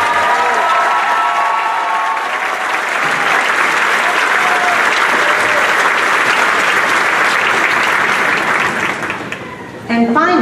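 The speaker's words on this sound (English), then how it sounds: "please stand so we can all applaud your" Loud, sustained applause fills a college commencement hall as high school dual credit graduates stand, with a few voices and cheers mixed in before the clapping tapers off near the end.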